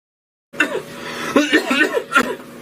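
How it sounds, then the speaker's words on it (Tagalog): A person coughs in a few short, rough bursts after a silent start, close and fairly loud, mixed with voiced throat sounds. "to palala na lang sa ubo mo ha?"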